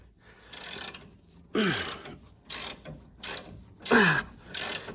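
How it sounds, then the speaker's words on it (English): A ratchet clicks in six quick bursts while loosening bolts on the front end of a 1969 Mercury Cougar XR7 convertible, each stroke close, crisp and separated by short pauses. "finally, we're getting to some bolts that are kind of coming off easy"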